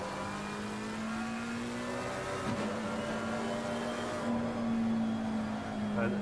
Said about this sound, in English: Here we go, it's a McLaren 720 sound for you.